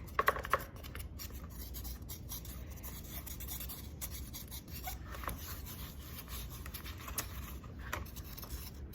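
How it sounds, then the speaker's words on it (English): Plaster silica investment being scraped and dug away from a kiln-fired mold for a cup, giving a steady, close, low gritty rubbing and scratching throughout, with a few sharper scrapes near the start. "And then I'm gonna sort of dig in here. All of that plaster silica is coming up so nicely."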